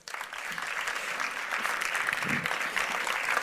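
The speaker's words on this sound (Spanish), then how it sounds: "Un aplauso, por favor." An audience at a university talk on climate and rare earths breaks into applause to welcome the speaker, swelling quickly into a steady, moderately distant clapping with a few murmurs underneath.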